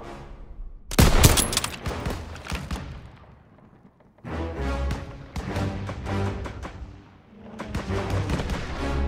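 Heavy WWII gunfire in the Call of Duty: WWII Stronghold mission, with a loud burst of rapid shots followed by sustained volleys of rifle and machine-gun fire, two long dense stretches separated by a brief lull.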